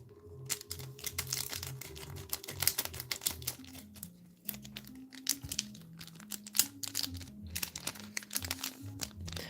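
A Japanese Pokémon card pack, VSTAR Universe, is cut open with scissors, giving close, crisp crinkling of foil wrapping in short bursts over quiet background music.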